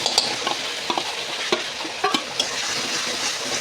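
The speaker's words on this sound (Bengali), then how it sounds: "তো চলো মশলাটা দিয়ে দিই, পেঁয়াজটা দিয়ে দিলাম, একটু নিয়ে নিলাম, নেড়ে নেব একটু" Onion and spices sizzle in hot oil in a pan while being stirred for a fish curry, a steady frying hiss with scattered sharp scraping and tapping from the spoon, close and alone.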